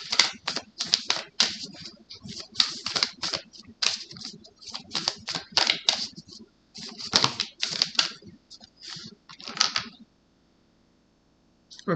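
Tarot cards being shuffled over and over, giving rapid, crisp fluttering bursts with brief pauses for about ten seconds before going quiet.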